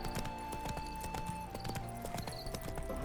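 A horse's hooves clip-clop in a quick, steady gait over a constant musical and ambient bed in The Witcher 3 video game, the hoofbeats moderately close and even.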